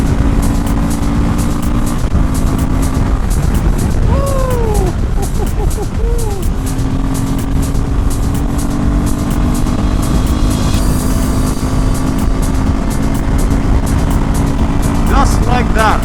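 A Royal Enfield Himalayan 450 motorcycle accelerates at high speed, its engine drone and wind roar loud and continuous, with rising tones of passing traffic and brief horn-like swells along the way.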